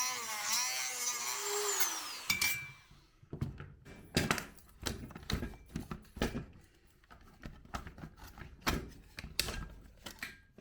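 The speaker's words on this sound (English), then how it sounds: "I had to cut half of that guard off so I could use the Dremel tool to cut the plastic around the center." A Dremel rotary tool cuts the plastic of an angle grinder guard, its high whine dropping away after about two seconds, followed by a scattered series of sharp knocks and taps.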